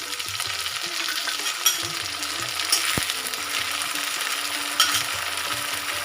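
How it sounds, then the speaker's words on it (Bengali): Tomatoes hitting a pan of browned onions for a soyabean curry, a steady bright sizzle with a few sharp spikes of stirring and scraping, close and with no talking. "এবার আমি টমেটো দিলাম"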